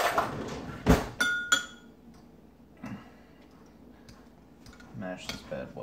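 A fork mashes muffin ingredients in a bowl for low-calorie chocolate peanut butter protein muffins, giving a few sharp clinks against the bowl early on and softer scraping taps later, up close.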